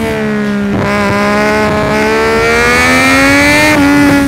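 A 140 hp motorcycle engine near cliffs holds a loud, continuous drone whose pitch climbs steadily as it revs, with no voices.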